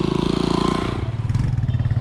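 A motorcycle ride near Kilwa, Tanzania: a close, loud engine putters with a rapid pulsing beat, its pitch shifting midway as the bike changes speed, with some clattering over the steady drone.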